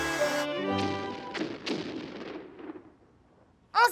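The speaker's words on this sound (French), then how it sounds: "J'ai l'impression de sentir de la fumée chaque fois que les pirates tirent un coup de canon" A series of booming, cartoonish cannon blasts with crashing tails, fading out, followed by a brief sharp sound at the end.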